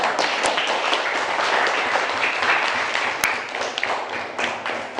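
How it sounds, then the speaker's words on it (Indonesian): Students in a civics class applaud group 2 after its presentation, producing a dense, steady round of clapping that lasts several seconds and thins out slightly toward the end. "berikan aplaus untuk kelompok 2"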